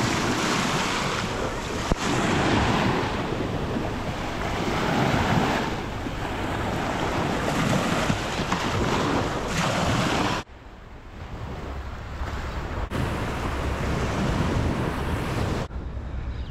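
Sea waves washing onto a Mariupol beach beside reinforced piers, a steady loud wash of surf mixed with wind buffeting the microphone, continuous throughout with a brief drop partway.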